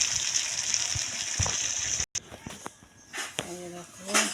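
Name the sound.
broth poured into cooking goat meat curry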